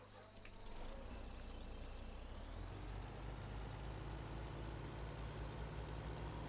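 A heavy truck in the American Outback farming game hisses out an air-brake release, then its diesel engine settles into a loud, steady low idle with no talk.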